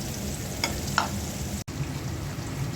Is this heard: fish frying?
yes